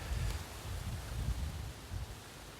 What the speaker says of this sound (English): The bloody wind today, Rich.